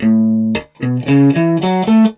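An electric guitar plays through an amplifier, one sustained note and then a quick run of separate picked notes, with a touch of room ambience.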